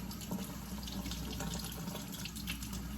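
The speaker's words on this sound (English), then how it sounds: "I'm just rinsing them under cold water." A faucet pours cold water over dry beans being rinsed in a kitchen sink. A constant, nearby rushing splash carries on alone without voices.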